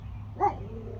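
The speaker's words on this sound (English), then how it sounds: "We have Kjo in the background barking." A single short bark from a dog some distance off, brief and muffled against a low steady background hum.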